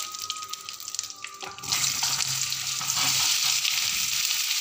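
Potatoes drop into hot oil already crackling with cumin and curry leaves on a low flame, the quiet sizzle jumping to a loud, steady frying hiss partway through that carries on to the end, with no voices.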